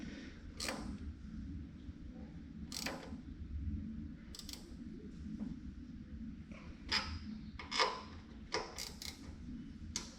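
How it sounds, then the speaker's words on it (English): A small 1/4-inch ratchet tightening carburetor bolts, giving faint, irregular clicking bursts over a steady low rumble of background noise, with no talking. "Just use a little 1/4" ratchet and just barely."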